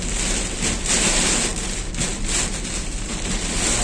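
Heavy rain roars in a thick, continuous wash, pulsing slightly louder and softer, with no voices.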